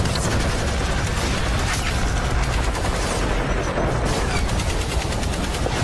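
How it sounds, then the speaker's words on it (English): Gunfire erupts around a launch pad in a dense, sustained fusillade of rapid shots and booms, loud and continuous throughout. "Within minutes, Strike Team 1's target begins preemptive firing all around their launch pad"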